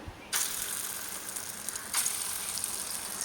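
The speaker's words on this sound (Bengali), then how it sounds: "ছোট ছোট করে কুচকি কুচকি করে ডালের বড়া ভাজছি।" Khesari lentil fritters fry in hot oil, a bright steady sizzle that jumps louder twice as more batter drops in, close and alone with no voices.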